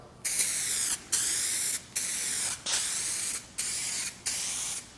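A spray gun lays a final clear coat over car paint in six sustained hissing passes, each about a second long and separated by short gaps, loud and close with no voices.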